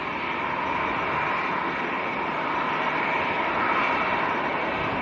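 A TUI Boeing 787 Dreamliner lined up full length on the runway at Manchester Airport gives off a steady, broad engine roar with a whining hum, even and continuous at a moderate distance.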